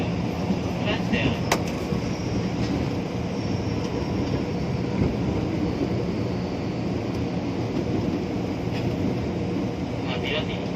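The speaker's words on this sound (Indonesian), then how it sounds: "kereta akan tiba di stasiun Klender" A KRL Commuter JR205 electric train pulls into Klender station near Jakarta, a steady rumbling roar from inside the carriage with occasional clanks and squeals, while people talk faintly over it.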